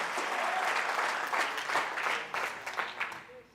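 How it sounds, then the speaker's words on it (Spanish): A congregation applauding during a church service, steady clapping of many hands at moderate distance that swells and fades out near the end. "Fuertes aplausos a nuestro Dios"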